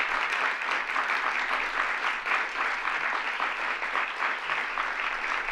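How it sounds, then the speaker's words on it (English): Audience at a bill-signing ceremony applauding the bill sponsors, with brisk, continuous clapping that pulses slightly in intensity and stays moderately loud. "Let's give them both a round of applause"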